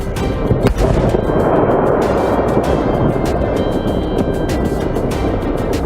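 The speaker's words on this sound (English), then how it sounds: "showing the moments that fireworks facility exploded, setting off fireworks, causing several fires" A fireworks facility explosion in Esparto sets off fireworks, a dense continuous roar of crackling and booming blasts with one sharp report near the start, loud and sustained throughout the clip.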